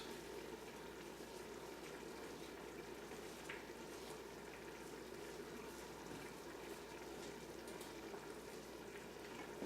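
Roux for a roast beef, basil and rosemary soup gently simmering and sizzling in a pan, a faint, even crackle and bubble that continues steadily with no talk.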